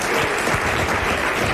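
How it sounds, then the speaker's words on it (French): Studio audience at a 1993 French talk show applauds steadily and loudly, a dense wash of clapping filling the room for the whole moment with no talk over it. "Nous allons applaudir"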